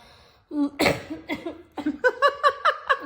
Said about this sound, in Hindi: मेरी खांसी अभी तक ठीक नहीं हुई